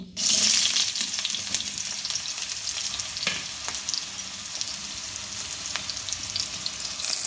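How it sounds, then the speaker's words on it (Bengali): Sliced ridge gourd frying in hot oil with panch phoron and dried red chilli, giving a loud, continuous sizzle close by, with a few spatula knocks against the pan and no one speaking. "ঝিঙেগুলো ভালো করে নেড়ে ভেজে নেব কিছুক্ষণ।"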